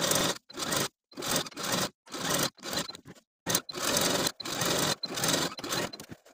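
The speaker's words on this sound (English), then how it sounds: "I'm going to sew each of the 6 rows from one end all the way to the other, back stitching at both ends to secure the threads." A sewing machine stitches rows of shirring across dress fabric, running in about ten short, close bursts separated by brief pauses, steady and alone.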